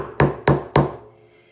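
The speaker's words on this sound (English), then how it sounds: "I'm gonna go ahead and tap it." A metal punch is struck three times into a tin lamp for a DIY punched-tin project, giving three sharp, evenly spaced metallic taps, each ringing briefly before the last fades into quiet.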